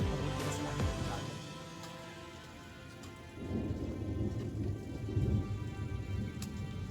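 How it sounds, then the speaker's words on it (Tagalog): Steady rain patters throughout while low thunder rumbles in the distance, swelling into a longer roll in the second half. "Umuulan siya. Tapos kumukulong."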